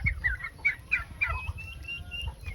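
Several turkeys making soft repeated clucking and chirping calls, close by, in short irregular bursts over a low background rumble.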